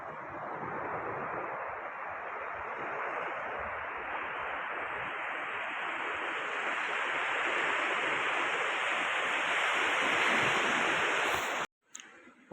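Sea waves wash onto the shore near Mahuva in a broad, steady roar of surf, blended with wind noise on the microphone. The sound holds loud and even before cutting off briefly near the end.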